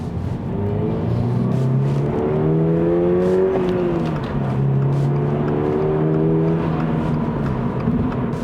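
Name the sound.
Toyota GR86 driving, wheel drumming road noise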